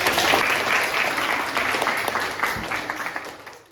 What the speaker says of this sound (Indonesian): Terima kasih Nabila, kita beri tepuk tangan.